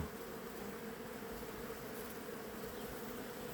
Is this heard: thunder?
no